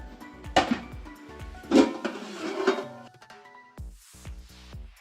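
A large metal cooking pot for boiling cake batter base is set down, giving a couple of solid clunks with a lingering metallic ring, followed by softer handling knocks.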